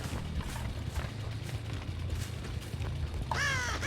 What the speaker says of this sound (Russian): Так, я видел, там ворона, по-моему, спускалась.